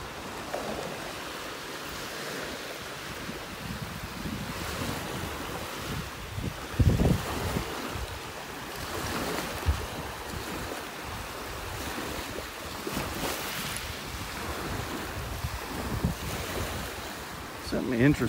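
Steady wind and rolling ocean surf on a beach in North Naples, Florida, a constant broad roar with heavy gusts buffeting the microphone, loud and close, with a few louder surges.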